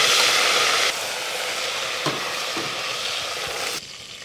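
Mint leaves frying in a pan while making ghee rice give a steady broadband sizzle, brighter for the first second, with a couple of faint utensil taps, then quieter toward the end; no talking.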